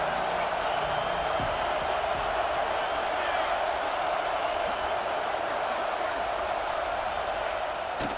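A college football video game stadium crowd roars as a steady, dense wash of noise, sustained and even throughout, with a commentator's voice faintly mixed in.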